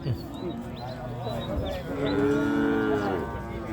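Cattle mooing at a busy Thai cattle market, several drawn-out low moos overlapping and building louder toward the end, with crowd chatter and voices underneath.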